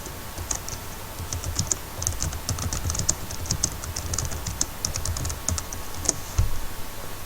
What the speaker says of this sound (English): simply typing the title of the work in quotes into the first search box